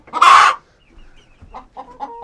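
A hen lets out one loud squawk, then a few soft low clucks follow nearby.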